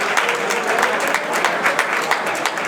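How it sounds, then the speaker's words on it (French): An audience at a Pokémon TCG gala applauds an artwork by Mitsuhiro Arita, dense steady clapping filling the hall from start to finish. "Je vous demanderai, s'il vous plaît, d'applaudir cette œuvre incroyable"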